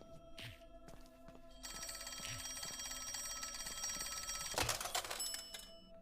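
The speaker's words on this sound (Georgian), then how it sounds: "ტელეფონი რეკავს." A telephone rings steadily in the horror video game Reporter Chapter 2. The shrill, continuous electronic ringing starts after a short pause and runs to the end, fairly faint, with soft game ambience and no speech.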